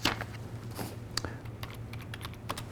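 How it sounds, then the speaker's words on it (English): Computer keyboard typing, a run of quick irregular key clicks close up with a faint steady hum underneath. "So I'm going to type the question here."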